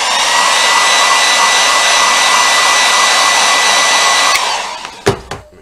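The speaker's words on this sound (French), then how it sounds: "Je vais lui en mettre deux petits coups de sèche-cheveux." A hair dryer blows loudly and steadily at close range on a chocolate egg mould for several seconds, then cuts off, leaving a couple of brief clicks.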